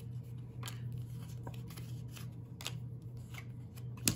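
Playing cards drawn one at a time from a deck for a classroom decimal math game, giving soft brief snaps and slides spaced irregularly over a steady low room hum, close and quiet with no talking.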